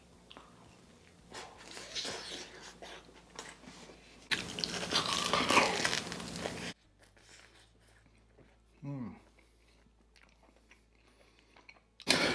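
Crunchy bite into a slice of homemade thin-crust New York style pizza with charred crust, a loud crisp burst followed by brief chewing, with some handling noise before it and a quieter pause after.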